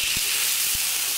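Water poured into a hot wok holding fried bitter melon and red chilies, giving a steady loud hiss of steam and sizzling that fills the whole moment, with a couple of soft low knocks.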